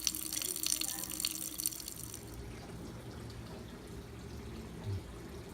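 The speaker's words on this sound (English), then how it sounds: "This is my pathetic faucet that started this whole thing." Water running from a weak, low-pressure household faucet, a steady soft hiss and trickle that is brighter at first and then settles into a quieter, even flow.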